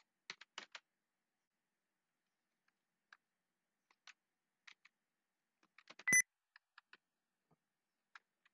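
Quiet, sparse keystrokes on a computer keyboard as switch configuration commands are entered, with a few quick clusters of taps separated by pauses and one brief louder click, with no talk.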